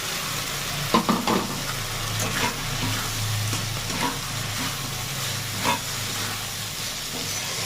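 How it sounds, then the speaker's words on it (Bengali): Fried potatoes and pointed gourd sizzle steadily in a hot pan while being stirred, with scraping stirring strokes cutting through the continuous frying hiss. "এবারে যে ভেজে রাখা আলু আর পটলটা আছে এটা দিয়ে ভালো করে কষিয়ে নেব"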